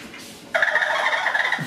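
Contigo water bottle letting out a loud, sustained squawking honk like a duck or turkey gobble, lasting about a second after a quiet start, then cutting off abruptly.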